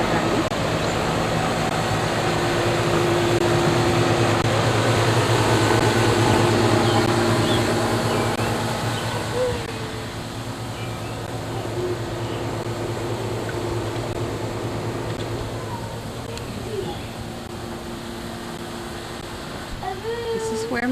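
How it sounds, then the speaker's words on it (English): Air conditioner running outside a house, a steady low hum and whir that stays constant throughout, with faint outdoor background. "We hear the air conditioner running."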